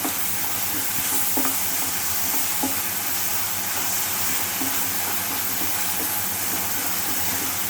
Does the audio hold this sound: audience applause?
no